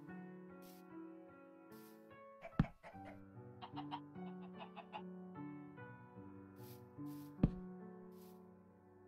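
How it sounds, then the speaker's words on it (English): Chickens cluck repeatedly in Minecraft, in overgrown jungle terrain: a series of short clucks in scattered bursts, clear and fairly close, with two sharp knocks in between and soft game tones beneath. "Stop clucking at me, you bastards."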